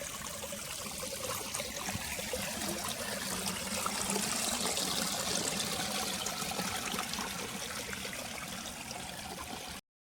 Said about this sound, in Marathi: भाज्या आपण इथं स्वच्छ पाण्यात मस्त धुवून घेतो